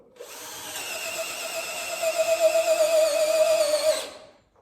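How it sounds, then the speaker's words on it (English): A DeWalt power drill whines loudly and steadily for several seconds as it bores a hole with a large drill bit, then spins down and stops. "smaller drill can even drill this hole."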